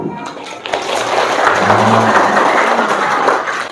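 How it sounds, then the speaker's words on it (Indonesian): An audience at a talk on thuggery and an anti-gang task force breaks into a few seconds of steady crowd clapping, with voices murmuring underneath. "Tepuk tangan dulu."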